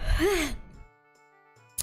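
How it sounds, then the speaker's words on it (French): A man's yawn: one close, breathy exhalation with a rising then falling voiced groan lasting about half a second, followed by quiet. "Excusez-moi, je baille."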